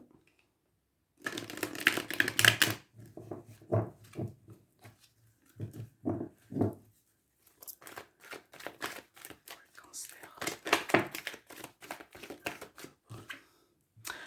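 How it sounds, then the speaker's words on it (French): Tarot cards being shuffled by hand, a run of soft rapid riffling and slapping bursts with short pauses between them. The sound is close and clear, and no one talks over it. "Alors, on va bien mélanger les cartes."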